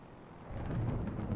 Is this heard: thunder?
yes